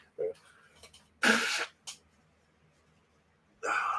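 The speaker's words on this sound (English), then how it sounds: "I'm going to blow my nose" A person blows their nose during a livestream in Bangkok: a short snort, then one forceful blast, a brief follow-up puff and another blast near the end.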